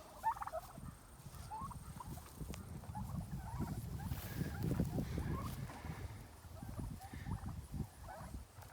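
Pastured turkeys gobble in a cluster of bubbly calls over a low, busy murmur of the flock, fairly faint and spread across the whole stretch.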